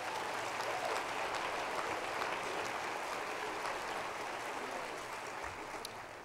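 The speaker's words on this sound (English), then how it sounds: "Let's have a round of applause for them as well." Steady applause from a large crowd at a university commencement ceremony, a dense continuous patter of many hands clapping that carries on evenly and fades slightly at the end.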